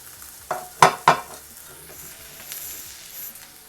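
Chopped tomatoes tossed and stirred in a pan for village-style mutton thokku, giving a few sharp scraping stir strokes early on, then a soft, steady sizzle close by.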